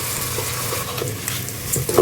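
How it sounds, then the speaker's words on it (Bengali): Onion and garlic frying in a pan for bhuna khichuri, giving a steady close sizzle with light crackles and a brief stirring clatter near the end. "দেখতে পাচ্ছেন পেঁয়াজ রসুন ভাজা হচ্ছে"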